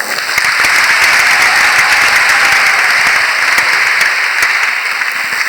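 Dense, loud audience applause at a Catholic gathering fills the whole stretch, a continuous roar of many hands with sharp individual claps cracking through, steady from start to finish with no talk.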